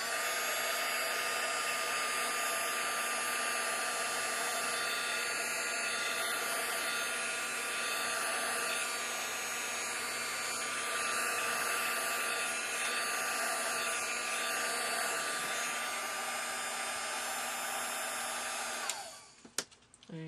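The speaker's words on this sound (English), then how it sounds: "Just bring your heating gun in and out so it doesn't get too hot, because then the embossing powder will bubble up." A heat gun melting embossing powder roars in a steady, close, unbroken blast for nearly nineteen seconds before switching off with a small clatter.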